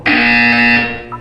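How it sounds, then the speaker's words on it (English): A loud, steady electronic buzzer from the video game Portal 2 sounds alone for about a second before cutting off, leaving a brief trailing tone. "When you hear the buzzer, look down at the floor."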